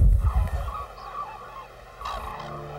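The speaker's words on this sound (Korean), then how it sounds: "계절의 바뀜을 알리듯 새들의 울음소리만이 울려 퍼지고 있습니다" Honking, goose-like calls of migratory birds ring out over an open, windy background of early-winter farmland in the Cheorwon DMZ, some near and others farther off.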